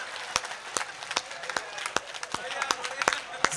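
Scattered, uneven clapping from a small audience at a Hindi poetry gathering, sharp individual claps over a low murmur of voices.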